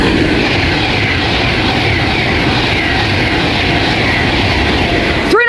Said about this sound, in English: the next train to pass by will be an Avanti West Coast Pendolino running a service from Edinburgh to London Euston